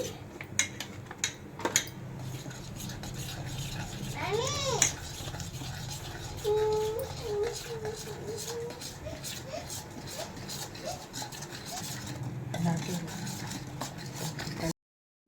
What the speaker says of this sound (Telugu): ఈ పొడి దీంట్లో వేసుకొని గడ్డలు లేకుండా అంతా బాగా కలుపుకోవాలి